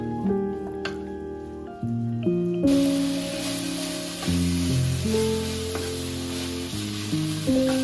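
Mushrooms sizzle and crackle loudly in a hot pan over raised heat, a continuous frying hiss that grows brighter partway through, with no voices.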